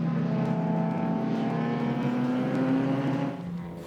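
Vintage racing cars, including an MGB Roadster and a Mercedes, drop into a corner in a group, with several engines droning and revving together close by, a sustained loud roar that eases off slightly at the end.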